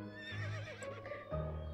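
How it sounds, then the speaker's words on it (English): A horse in the video game To The Moon gives a short, close whinny with wavering pitch, followed by a deeper snort-like tone, heard clearly with no talking over it. "It's a horse."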